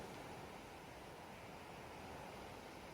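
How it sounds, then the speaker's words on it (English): Ocean waves wash in a continuous, even surf hiss, steady and soft with no distinct breaks or voices, like distant breakers rolling ashore. "continuing this slow, mindful breathing, focusing on the sound of the waves."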